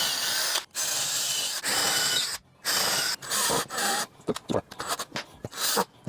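A power driver sinks 3.5-inch wood screws into a tree trunk to mount an off-grid solar node. Close, loud whirring bursts are broken by brief pauses, ending in a series of short choppy spurts.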